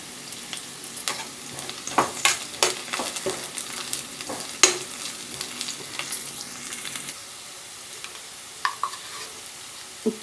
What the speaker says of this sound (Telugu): పొడవుగా కట్ చేసి పచ్చిమిరపకాయలు వేసుకుందాం వీటిని ఎర్రగా వేయించుకుందాం